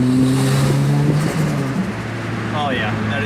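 A turbocharged Toyota Celica GT-S with a TRD exhaust holds a steady, droning engine note that rises slightly in pitch, heard close and loud under a voice.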